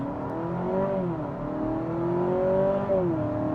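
A 2025 Honda Civic Sport Hybrid pulls hard off the line, its engine droning steadily with rising and falling pitch as it accelerates, heard from inside the cabin without talk.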